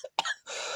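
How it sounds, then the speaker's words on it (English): A single short cough with a throat-clearing rasp, close and alone, ending in a brief breathy hiss. "this time I'm not cutting out the cough"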